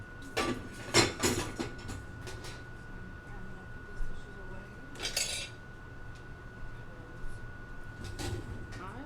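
Dishes and cutlery clink and clatter in a kitchen sink during washing, with a few sharp bright knocks spread over a steady background hum, a voice speaking intermittently.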